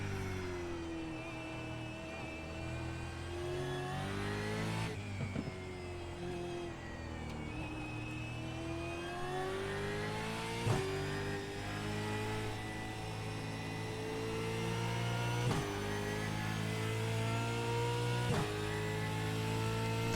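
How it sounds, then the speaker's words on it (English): A Formula 1 car engine in the racing game iRacing, on the Indianapolis road course, drones at high pitch and rises through the gears with several brief shifts, running loud and steady for about twenty seconds with no talking. "I'm in a Formula 1 car."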